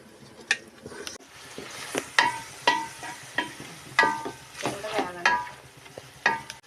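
Chicken intestines and liver frying in a pan while being stirred, with soft sizzling under repeated scraping strokes of a utensil every half second or so, close up and fairly quiet, with no talking.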